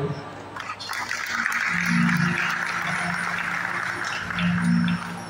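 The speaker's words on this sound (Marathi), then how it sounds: "सगळ्यांच्या टाळ्या होईल" An audience at a Shakti Tura folk performance in Diva claps in a broad, continuous wash of applause with a voice carrying over it.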